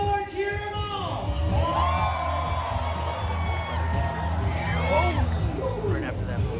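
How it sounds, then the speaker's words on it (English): A crowd at a bullfighting event cheers and whoops loudly, rising shouts and yells over a continuous roar, with voices mixed in. "Cheer them on."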